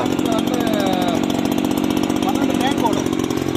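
A petrol-engine pesticide sprayer used on a chilli crop runs steadily and loud close by, its even motor drone holding unbroken the whole time with no pauses.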